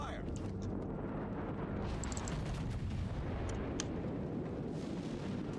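Deep booming salvos of naval gunfire from warships in a video game rumble loud and continuous, with heavy low thunder and a few sharper cracks layered over the roar.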